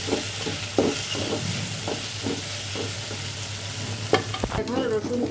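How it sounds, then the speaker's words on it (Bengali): Dried fish with turmeric and chili powder fries in a pan, a steady close sizzle broken by regular scraping stirs about twice a second, then a louder clatter near the end, with no talking. "এবার এগুলো ভালো করে ভেজে নিচ্ছি।"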